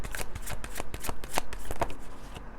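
Tarot cards being shuffled, a rapid run of close, crisp riffling flutters and slaps with an even rhythm, heard on their own.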